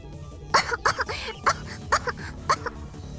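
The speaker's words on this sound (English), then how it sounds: "Faris coughs, shaking wheat flour off her clothes and hair." A string of sharp, short coughs in quick bursts from a video game character, Faris, in Steins;Gate, covered in wheat flour.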